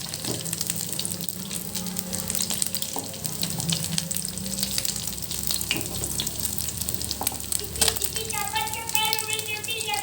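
Fish frying in a little oil on low heat crackles and sizzles steadily up close, with watery bubbling and a few clinks underneath, and a voice talking briefly near the end.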